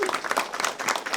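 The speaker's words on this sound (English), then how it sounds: "One last big of applause to Chelsea." A panel audience applauding, dense rapid clapping from many hands at steady loudness throughout the brief moment.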